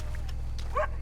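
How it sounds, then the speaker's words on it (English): A single short dog bark in Red Dead Redemption 2, faint and distant over a steady low rumble of game ambience, with no talking. "I hear a dog."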